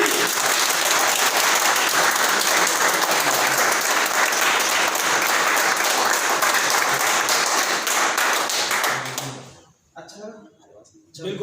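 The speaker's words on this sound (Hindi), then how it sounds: "पहली बार ताली खुद के लिए बजाएं।" A seated audience at a motivational talk claps for themselves in one sustained, loud round of applause lasting about nine seconds, then it drops away to near quiet.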